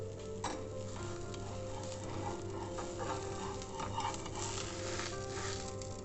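Uttapam cooks on a covered tawa, giving a quiet, continuous sizzle with faint crackles throughout and no talking.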